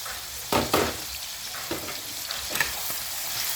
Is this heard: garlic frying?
yes